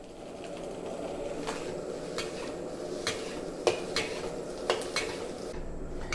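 Bell peppers, green and red, stir-fried in a wok over a high-power stove for salted egg fried rice, heard as a steady frying hiss with scattered metallic clinks and scrapes of utensil against pan, moderately close.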